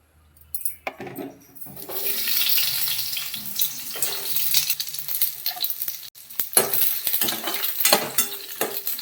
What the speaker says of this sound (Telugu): ఇవన్నీ ఇప్పుడు మనం నూనెలో వేయించుకుందాం ఇప్పుడు ఆయిల్ వేసుకుందాం కొద్దిగా